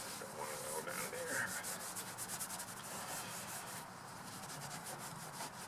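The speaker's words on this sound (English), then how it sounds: "I'm just going to get some tape residue off, clean it up, and" Rubbing off tape residue with WD-40 on a Buick body being prepped for Bondo, a continuous, quiet scrubbing with rapid back-and-forth strokes throughout.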